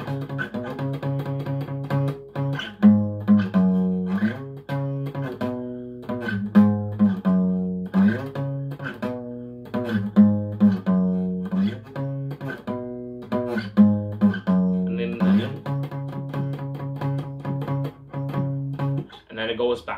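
Electric guitar playing the main riff of a song, heard alone with choppy rhythmic chords and accented palm-muted strikes at a moderate, close, even level.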